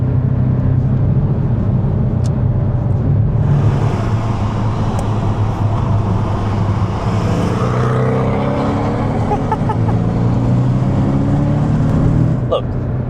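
A car, compared with a 2005 BMW, drives along with a steady engine drone and road rumble throughout, its pitch shifting midway as it is driven hard.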